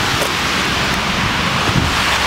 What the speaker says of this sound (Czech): Prší, jak jsi viděl.